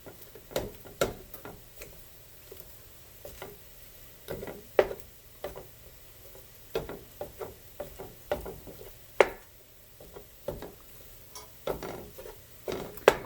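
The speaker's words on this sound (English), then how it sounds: "You want to chop your sausage all up." Pork sausage being chopped up in a pan, a run of quiet, irregular tapping and scraping clicks of a utensil against the pan, close and faint, with a soft background hiss.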